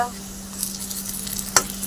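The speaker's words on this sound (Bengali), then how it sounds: "এই দেখো বন্ধুরা আমাদেরগুলো ভেজে নিচ্ছে, আমাদের বড়াগুলো।" Red lentil fritters crackle and sizzle in hot oil, a close, continuous spatter with a low steady hum beneath and one sharp clink near the end, with no voices.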